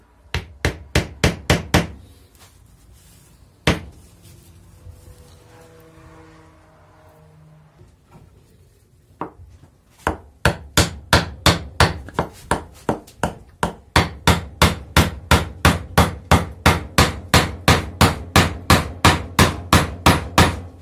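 Repeated hammer blows drive a drilled, epoxy-filled part into place, a quick burst of strikes, one lone blow, a pause with faint background hum, then a long steady run of evenly spaced, loud, sharp hits.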